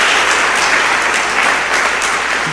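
Congregation clapping during a church sermon, a loud, dense, continuous wash of many hands applauding together without pause, close and filling the room.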